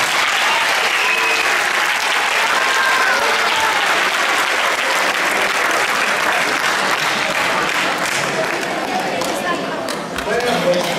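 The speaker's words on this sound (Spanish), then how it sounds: "Un aplauso para Luna." A crowd at a children's and youth choir event in Torrelavega claps for Luna, a long, sustained, fairly loud round of applause with faint chatter beneath it that tapers slightly near the end.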